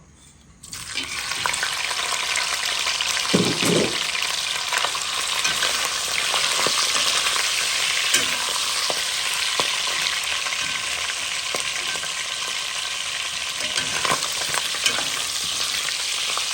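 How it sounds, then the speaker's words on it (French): Boucané, a smoked meat, sizzles and fries steadily in a pan, a loud continuous hiss that starts abruptly and holds throughout with a few brief stirring clanks and no talking. "Je vais faire frire les boucanés."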